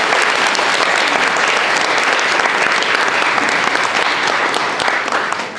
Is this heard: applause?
yes